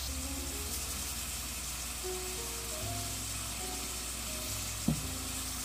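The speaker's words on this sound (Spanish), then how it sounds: "Vamos a dejar que la carne molida se cocine un ratito" Ground beef frying in oil in a pan for chili gives a steady, even sizzle throughout, with a brief clink near the end and no talk.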